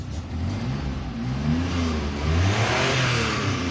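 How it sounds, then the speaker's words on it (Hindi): 1988 Suzuki FX car with its engine revving in a steady, moderately loud run, a low rumble rising slightly midway and holding, heard close with no talk. "ये देखें इंजन का साउंड"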